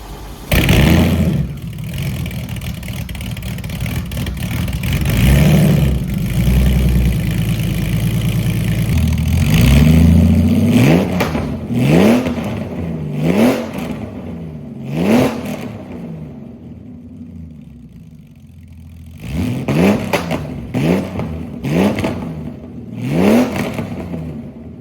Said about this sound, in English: And this thing sounds pretty wild.